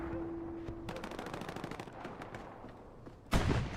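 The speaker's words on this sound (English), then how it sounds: "Casper back on this MG" Rapid bursts of machine gun fire from an MG in the WWII shooter Hell Let Loose, with a steady stream of close, sharp shots followed by a louder, heavier blast at the end.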